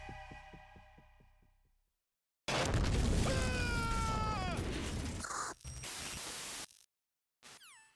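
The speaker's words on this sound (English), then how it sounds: "I like how they make us hear the explosion and him screaming" An explosion in the video game Metal Gear erupts suddenly after a brief lull: a loud, dense blast with whining, falling tones inside it, roaring for about three seconds before cutting off abruptly.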